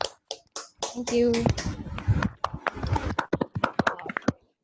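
Scattered clapping from an online audience after unmuting, as uneven sharp claps arrive over laptop microphones, mixed with a brief spoken thanks and other voices.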